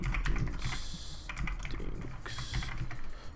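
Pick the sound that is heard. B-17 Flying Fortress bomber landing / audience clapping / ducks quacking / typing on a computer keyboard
typing on a computer keyboard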